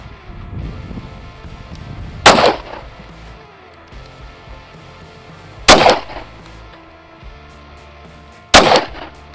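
Three loud, sharp gunshots from a Raider 365 pistol with a 6-inch barrel firing 124 grain Blazer ammunition, spaced a few seconds apart, each with a short echoing tail over a low background rumble.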